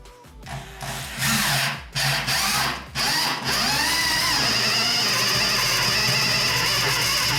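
A power drill revs in short bursts, then grinds steadily and loudly through wood for several seconds, close by, while a custom PC desk is built.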